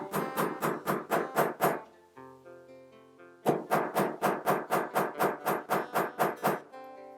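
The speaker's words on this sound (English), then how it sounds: "And then I'm just going to use my hammer and hammer it in." Sharp, evenly spaced hammer blows ring out close by as a rivet button is hammered into jeans, a quick run of strikes, a brief pause with a soft tone, then a longer run of whacks.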